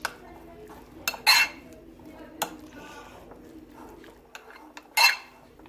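A spoon clinks and scrapes against a bowl while chicken sandwich filling with black pepper is mixed, giving a few sharp metallic knocks and softer stirring sounds in a quiet room, close by.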